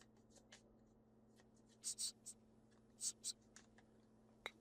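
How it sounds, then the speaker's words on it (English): Cards from the Bloodborne board game are shuffled by hand in a few quick riffling bursts with soft ticking contacts in between, close and fairly quiet over a low steady hum, no talking. "Getting wild with the shuffling."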